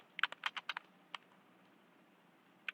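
Bursts of keystrokes on a computer keyboard while code is typed for a Python list-slicing example: a quick run of clicks, then a pause, one more key, and a final keystroke near the end, close and clear with no talk.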